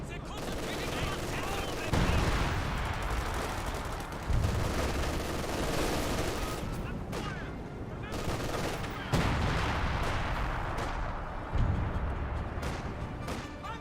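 Artillery and gunfire in Company of Heroes 2, a white phosphorus barrage, with repeated heavy booms and dense crackling battle noise continuing loudly across the whole stretch, mixed under talk.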